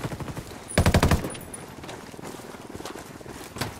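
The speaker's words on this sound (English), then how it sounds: "Oh my god, I'm being shot at." Video-game gunfire in a combat control team roleplay, one tight rapid burst of automatic shots up close followed by a faint scattered shot or two, against quiet background noise.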